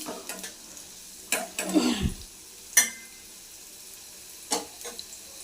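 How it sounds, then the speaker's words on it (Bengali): Cut potato pieces fry in oil in a kadai until reddish, a soft close sizzle broken by a few sharper scraping and stirring bursts, with no voices. "এবার আলুটা লাল লাল করে ভেজে নিই।"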